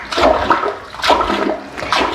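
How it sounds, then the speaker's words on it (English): A toilet brush shoves water down into a toilet bowl in a bathroom: three loud, close sloshing surges of gurgling water, each swelling and ebbing, with no voices. "So here I am, just shoving the water down."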